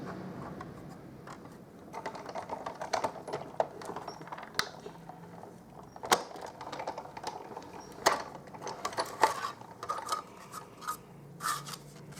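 A Big Shot die-cutting machine is cranked to cut a stitched circle framelit. Soft, uneven clicks and creaks repeat at a quiet level, close by.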